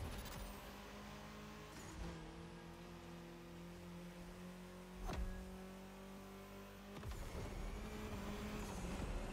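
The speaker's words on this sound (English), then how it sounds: "Oh, the way the cars sound in the tunnel, by the way, is absolutely phenomenal." Racing cars in The Crew Motorfest video game roar and rev through a tunnel, engine drones echoing with sharp shifts and passing bursts, loud and close with no talk.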